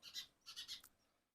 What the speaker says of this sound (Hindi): चिड़िया भी बोल रही है।